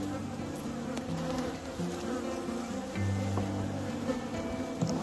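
Honeybees buzzing around an open, overwintered beehive during an inspection after a split, a dense steady hum from many bees close by, with individual bees droning louder as they pass.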